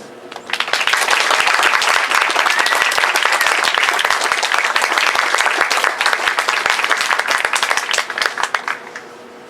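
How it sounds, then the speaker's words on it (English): Sustained applause from a large crowd for award recipients and meritorious promotions at a Marine Corps graduation ceremony, loud and continuous for several seconds before tapering off at the end. "please join us in applauding the award recipients and meritorious promotions for Company C"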